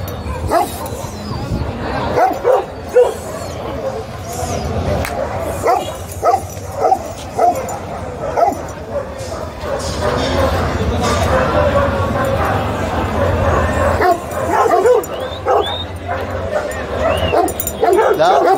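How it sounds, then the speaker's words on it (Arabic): Guard dogs chained on wire at a Friday animal market bark and yip repeatedly, some barks close and loud, over steady crowd chatter and people talking. "في كلاب حراسة،"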